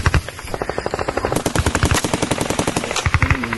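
Automatic rifle fire rattles in rapid, sustained bursts during close combat near a building, loud and near with sharp repeated cracks.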